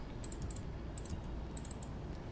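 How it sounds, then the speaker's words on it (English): Computer keyboard keys pressed in three small clusters of crisp clicks, spaced about every half second to a second over steady low background hiss, close and quiet, no talking. "now if I press Control F8 on the keyboard, it turns on"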